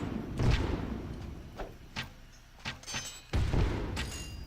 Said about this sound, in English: these bombard cannons also do damage against units